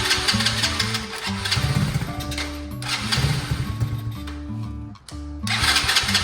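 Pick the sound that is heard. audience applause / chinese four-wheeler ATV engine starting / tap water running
chinese four-wheeler ATV engine starting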